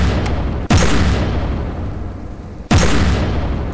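Two heavy cannon shots from a warship cannon in the naval combat game From the Depths, each a sudden loud boom followed by a rumbling decay, spaced about two seconds apart over steady engine-like background noise.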